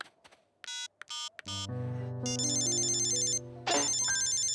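A cartoon telephone rings in a bright electronic ringtone, a few short bursts followed by longer sustained tone phrases, loud and alone with no talk.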